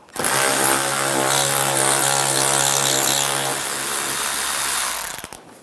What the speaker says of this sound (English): Use an 8mm socket, take this screw out.